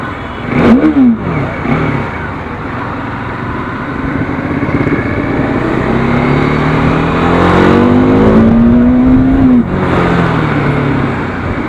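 A Bajaj Dominar 400 motorcycle engine idles with a rough rumble, then revs sharply twice, its pitch climbing and dropping, close and loud with no talking.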